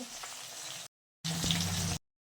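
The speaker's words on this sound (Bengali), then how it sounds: "আজকে মাছ ভাজাটা আগেই শুরু করে দিয়েছি আর এই হচ্ছে মাছ দেখো" Oil sizzles and crackles as hilsa fish fries, in two short bursts separated by a brief silence, close and fairly quiet.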